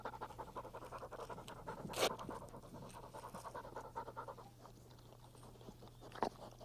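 Small bird dog wearing Velcro hobbles on its legs pants steadily in quick rhythmic breaths throughout, close and fairly quiet, with a couple of brief sharper sounds partway through.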